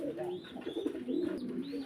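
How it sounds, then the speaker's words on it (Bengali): Pigeons cooing in a loft where birds are kept for sale, with soft overlapping low coos repeating steadily, close and fairly quiet. "দেখেন কবুতর"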